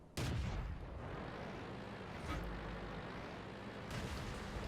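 Tank cannon fire in World of Tanks from a Matilda Black Prince: a sharp loud boom opens, a second shot follows near the middle and another late, each over a continuous engine rumble.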